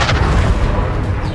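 A Confringo blast spell explodes in the video game Hogwarts Legacy, a loud, close booming burst with a rumbling low-end tail that fades over about a second.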